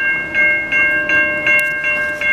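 A VIA Rail train in Montreal, heard as a steady horn-like tonal hum with rhythmic clicking pulses repeating about every 0.4 seconds, close and fairly loud, with no voices.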